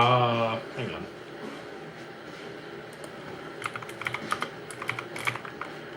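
Rapid typing clatters on a computer keyboard in a casual indoor setting, the keystrokes faint at first and growing into sharper bursts toward the end, with a voice speaking briefly at the start.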